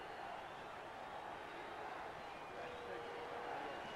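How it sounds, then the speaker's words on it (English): Steady roar of a large, noisy football stadium crowd at a 1989 Browns versus Dolphins game, a dense continuous wash of many voices that swells slightly toward the end, with no single sound standing out. "Crowd very, very noisy."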